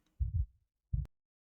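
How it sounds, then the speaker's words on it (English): Heartbeat sound effect from the Snowbreak video game: two deep, muffled thumps a beat apart, loud and isolated against silence. "Heartbeat."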